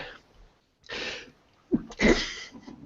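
A single sharp sneeze bursts out after a couple of soft sniffs and breaths, close by.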